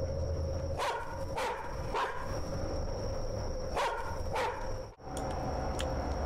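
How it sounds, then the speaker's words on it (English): Dog barking in the video game The Karaoke: a string of loud, sharp barks in irregular bursts, some doubled, over a low background hum with no talk. "That's the loudest dog I've ever heard."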